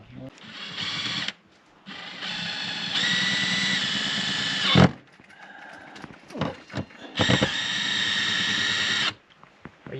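A power drill driving self-tapping screws while mounting a security camera at an RV base camp, heard as sustained whirring bursts broken by pauses, close and loud, with people talking around it.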